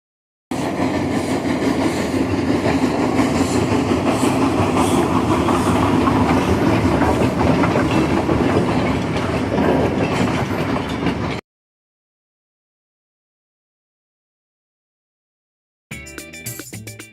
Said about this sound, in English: Steam engine.